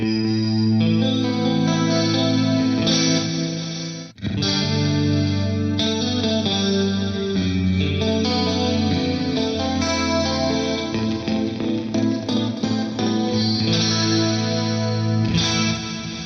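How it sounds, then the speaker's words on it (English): Dense, lush music processed with a detuned, chorus-like effect that thickens and widens the sound. It plays continuously, with one brief dropout partway through. "I'm going to kick in this stereo pitch detune to use with this now."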